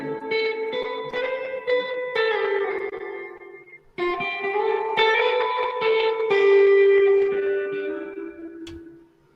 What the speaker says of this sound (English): A bit too much reverb, wouldn't you say?